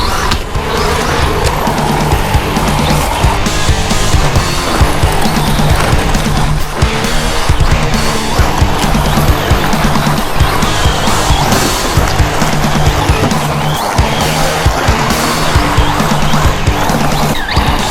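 An MJX Hyper Go 7303 radio-controlled car with a sensored motor and off-road tyres drives hard, its electric motor whining under dense, loud rolling and gritty tyre noise throughout.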